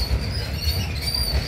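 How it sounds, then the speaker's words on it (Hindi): A moving train running along near Daman, a steady low rumble with rhythmic wheel thumps and a thin high squeal overhead, close and continuous. "हम चल रहे ट्रेन में होटल मिरासोल के ट्रेन में"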